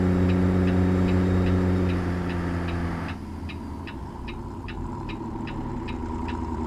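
A heavy truck engine in a video game, a CAT C-15 in a Peterbilt 389, drones loudly with a deep, throaty rumble, then eases to a lower steady hum with faint repeating ticks over it.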